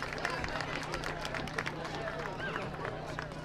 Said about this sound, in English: Round of applause for the away player by the home crowd.